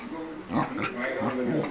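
Low, rumbling growls and snorts come in short repeated bursts from close by, a rough throaty grumble with no talking.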